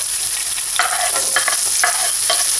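Garlic, onion and ginger sautéing in hot oil in a pan, a bright steady sizzle with several quick scraping strokes of a spoon or spatula stirring them close up.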